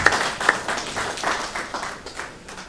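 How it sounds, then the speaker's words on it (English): Attendees at an annual meeting clap in a brief, moderate round of applause, a scattered patter of hands that rises and thins over a few seconds. "So give yourselves a big round of applause."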